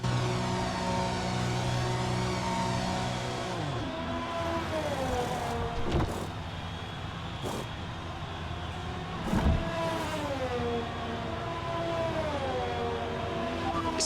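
A Formula 1 race car rolls through the pit lane at Marina Bay, Singapore, in the F1 2020 game for a change from medium to soft tyres, its engine whining steadily near and loud, with pitch rising and falling and faint clicks.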